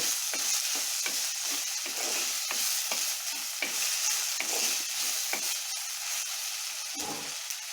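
Vegetables frying in a pan for a Telugu tomato bath, with a steady close sizzle broken by repeated scraping stir strokes roughly every half second; no talking.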